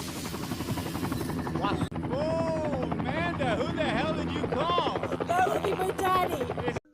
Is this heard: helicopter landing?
yes